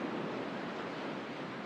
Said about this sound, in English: the waves wash it up onto the shore